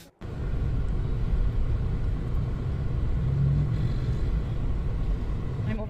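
Steady low engine rumble inside a car on a warm day, a continuous droning hum that fills the whole stretch with little variation.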